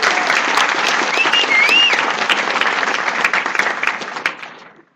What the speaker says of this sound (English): let's have a big round of applause for all our stellar speakers on the lineup tonight.